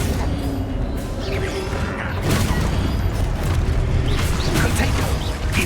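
Explosive spells bursting in the video game Hogwarts Legacy, a steady rumble of blasts and crashing debris with a few sharper impacts, loud throughout, with a voice casting spells over the action.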